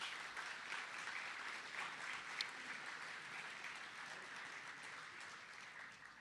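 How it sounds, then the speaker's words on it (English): Audience applause at a Federal Focus 2023 civic event honoring elected leaders, a steady wash of clapping from a crowd sustained for several seconds at moderate distance, no talk over it. "And then if y'all could give them a round of applause"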